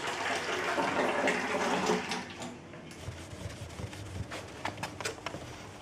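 Wort flows from an opened fermenter valve through a sanitized hose, a close gurgling, splashing stream that settles into irregular trickles and drips.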